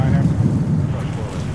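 Strong wind roars at JFK airport in New York, a steady, heavy rush buffeting the microphone throughout with no clear gaps.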